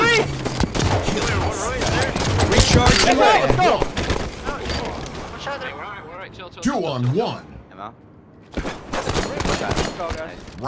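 Rapid bursts of gunfire during a competitive 4v4 video game match, dense volleys crackling in clusters through most of the stretch, with a brief lull before another burst, under loud excited player talk.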